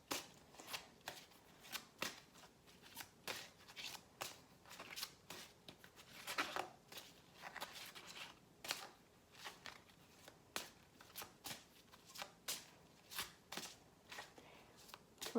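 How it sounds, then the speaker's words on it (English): Soft riffling and slapping of tarot cards being shuffled over and over, in irregular bursts with short pauses, close and quiet. "You can skip the shuffling if you want."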